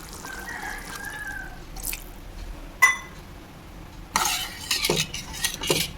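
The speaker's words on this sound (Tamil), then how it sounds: "அதனால் எக்ஸ்ட்ரா ஒரு கிளாஸ் தண்ணி சேர்த்துக்கோங்க" Extra glass of water splashed into a tamarind mixture in a pan for temple-style puliyodharai, a few drips and clinks first, then bursts of liquid pouring and sloshing up close.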